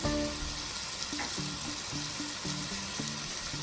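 Minced garlic and red pepper flakes sizzle in a hot pan for homemade meat sauce, a steady crackling hiss with a few light clinks, no voices.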